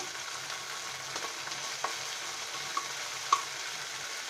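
Spiny gourd (kakrol) fry being stirred with sauce in a pan, with a steady low sizzle and a few soft scraping clicks from the spoon, close by and fairly quiet, no talking.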